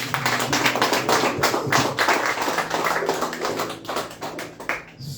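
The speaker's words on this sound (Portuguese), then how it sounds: "Aplauda o Senhor." A church congregation claps together in a dense, steady burst of applause, loud and close, with a low hum of music or voices underneath, the clapping thinning slightly near the end.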